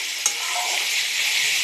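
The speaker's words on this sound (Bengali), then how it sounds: "কাঁচা লঙ্কা আমি কেটে রেখেছি চিড়ে, সেটাও দিয়ে দিলাম। একটু ভাজা ভাজা হবে।" Slit green chilies fry in a hot pan, giving a steady, bright sizzling hiss at close range, with a small clink or stir near the start and no voices.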